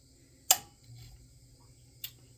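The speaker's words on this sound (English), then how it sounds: "and then you'll hear that switch kick on." A well pump pressure switch kicks on with a sharp mechanical click close by, followed by a softer second click a moment later, with a faint low hum between them.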